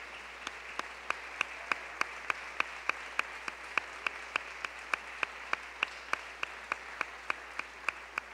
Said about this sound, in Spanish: Denle una ofrenda de palmas, hermano, al Señor.